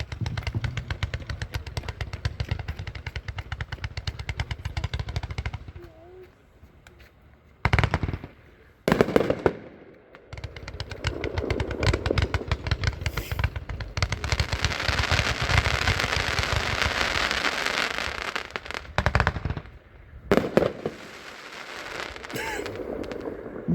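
A Pandemonium firework cake from Winda fires its 142 shots in rapid crackling volleys, loud bursts rattling in dense runs with a few brief lulls between sequences.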